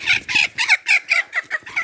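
A rooster gives a quick run of about eight short, rhythmic clucking calls, close and fairly loud, with no talking.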